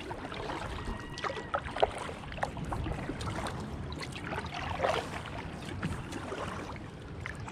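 Kayak paddling on the River Ouse through York city centre, with soft rhythmic water splashes and trickling over a steady outdoor background of low rumble, no voices.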